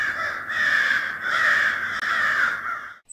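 Crows caw in three long, harsh, drawn-out calls from a flock of evil birds in a children's library animation, loud and close with short gaps, then stopping abruptly.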